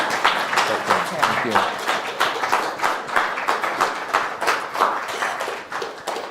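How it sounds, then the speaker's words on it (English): Audience at a conference fringe meeting claps for a speaker, steady rhythmic applause filling the room while a voice thanks them over it. "So can I have a round of applause?"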